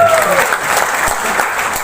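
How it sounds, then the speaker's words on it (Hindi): Audience applause at a mega business event in Odisha, a dense burst of many hands clapping that fills the short moment, fairly loud and steady with crowd presence behind it. "एक बार जोरदार तालियां बजाओ भाई इसको"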